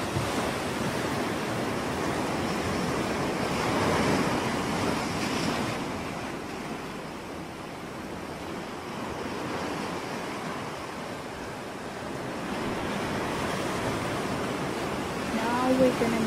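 Ocean waves wash and surge in a continuous, soft roar with slow swells, fairly distant and steady throughout, under a hushed backdrop.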